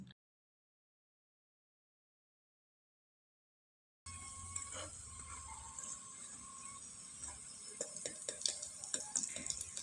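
A crispy flour-and-lentil pitha fries in a pan, giving a bright, continuous crackling sizzle with small pops. It comes in after several seconds of silence and is heard alone.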